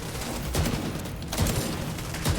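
Bighorn exotic assault rifle firing in a video game, a steady stream of loud shots with a few heavier bursts standing out through the two and a half seconds, no talk over it.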